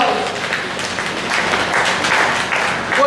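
Audience applause at a county fair rodeo-style event, a steady wash of many hands clapping at close to moderate distance for the full three seconds, with faint crowd noise mixed in.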